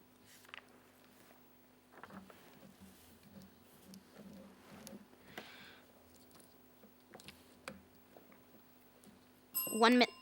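A quiz buzzer bell at a televised junior schools' academic quiz competition sounds loud and brief at the very end, following a stretch of quiet room tone with faint murmuring.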